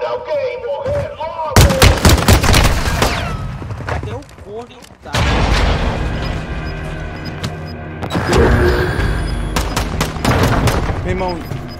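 Call of Duty gunfire shootout, with dense bursts of rapid shots and booming impacts that repeat loudly across the scene and drop briefly in the middle. Excited voices talk over the shooting.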